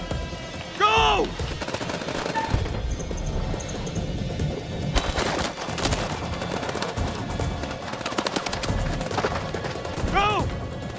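A game-world firefight in House of Ashes crackles with loud gunfire and sharp crashes, shots rattling in bursts while voices shout over the chaos and whistling tones rise and fall.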